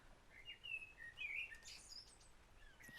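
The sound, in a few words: blackbird chirping outside a shed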